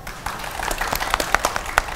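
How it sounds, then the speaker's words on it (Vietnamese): An audience on a TV dating show applauds in a short burst, scattered sharp claps building into a loose, uneven round that lasts about two seconds, close and lively. "vỗ tay"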